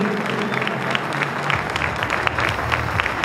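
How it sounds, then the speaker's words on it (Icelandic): An audience at a horse show event applauds in steady, dense clapping that fills the whole stretch, with no break. "Við skulum gefa það gott klapp."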